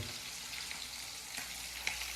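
Steady crackling sizzle of food frying in a pan, fairly soft and continuous, with a brief pop near the end.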